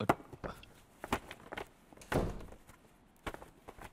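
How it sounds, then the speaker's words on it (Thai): Several dull thunks of a door being shut indoors, a few separate knocks and bumps spaced over a few seconds in a quiet room. "ปิดประตูสิ"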